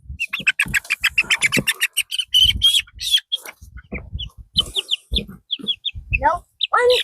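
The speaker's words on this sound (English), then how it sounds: "Come on, chickens." Chickens being moved into a chicken tractor cage cluck and squawk loudly and close by in rapid, overlapping bursts, with sharp high calls throughout and a person's voice mixed in.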